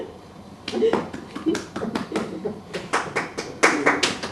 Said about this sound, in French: vous pourriez quand même applaudir